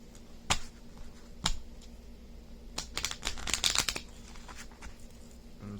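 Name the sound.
shuffling tarot cards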